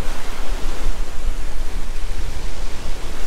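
Surf breaks on a stony Danish North Sea beach at Klitmöller, a steady loud rushing wash of moderate waves with no voices.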